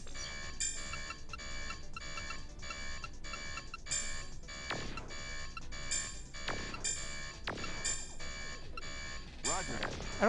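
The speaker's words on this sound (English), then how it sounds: "Now we get to listen to this alarm." An alarm sounds inside a Dreamcast video game, a looping electronic tone repeating steadily and loudly over other game sounds for about ten seconds.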